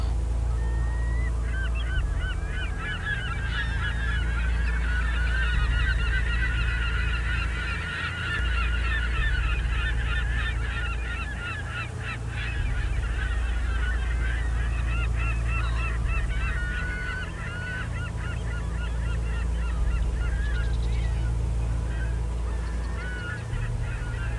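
A large flock of birds calling continuously at a distance over a steady low rumble of boat engine noise in Prince William Sound.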